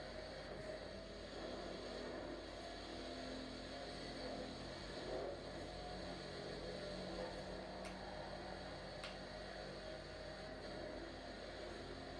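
Bugatti Chiron engine in Forza Horizon 4 driving on a motorway, a steady loud drone that holds throughout with no voices over it.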